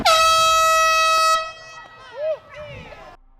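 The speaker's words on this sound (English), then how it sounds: "don't trust people with air horns." A loud, sustained air horn blast at an outdoor event holds steady for over a second and then cuts off, followed by a shorter tooting horn sound and crowd voices.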